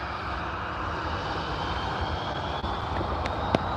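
An EasyJet jet taking off from Liverpool Airport bound for Alicante, a loud, steady engine roar that holds continuously, fairly close, with no talking.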